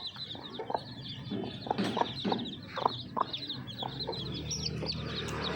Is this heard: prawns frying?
no